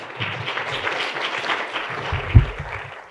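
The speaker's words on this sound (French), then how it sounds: "Merci à vous, Serge, on vous applaudit." Audience applause after a talk on capacitive soil probes and real-time irrigation advice, a dense, even burst of clapping for about three seconds with one sharp thump near the end.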